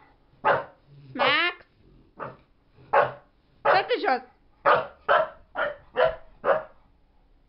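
A disobedient dog barks repeatedly at close range, about ten sharp, loud barks with a growly yelp among them, while a person speaks commands briefly between them.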